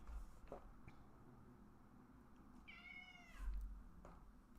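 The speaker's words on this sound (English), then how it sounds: "And my cat would like some treats now" A pet cat meows for treats indoors, giving one drawn-out, rising and falling meow partway through, close by against a quiet room background.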